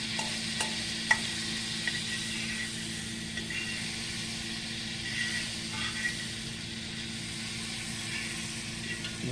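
About a tablespoon of butter sizzles on a heated griddle, a steady, even hiss that holds without breaks, with a few faint clicks near the start.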